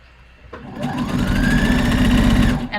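A sewing machine runs steadily for about two seconds, stitching along a folded fabric edge, a loud close mechanical whir that starts and stops abruptly.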